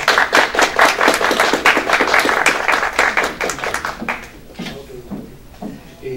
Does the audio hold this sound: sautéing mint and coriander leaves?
no